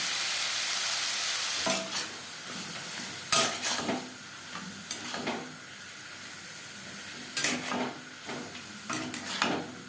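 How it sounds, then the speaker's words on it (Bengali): Chicken momo filling with ginger-garlic paste, green chilli paste and salt fries in a pan with a soft background sizzle, broken by repeated sharp scrapes and clatters of a spatula stirring against the pan. "খুব বেশি ভাজার প্রয়োজন নেই যেহেতু আমি মোমোর জন্য কুর তৈরি করছি"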